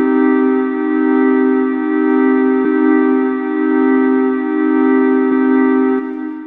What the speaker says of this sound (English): So now the chord will play 8 steps long and then repeat.